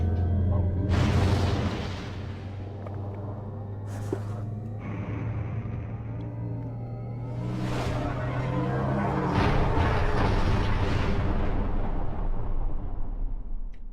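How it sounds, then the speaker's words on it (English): Explosions go off in the Wii game Metroid Prime 2: Echoes: three or four heavy booms with rumbling tails spaced over several seconds, set against a constant low game drone. "Remember, cool people don't look at explosions."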